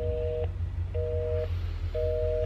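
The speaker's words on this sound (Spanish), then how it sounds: "Suena ocupado." A telephone busy signal gives three evenly spaced steady tones, each about half a second long, over a low hum during a quarantine at home. No voice is heard.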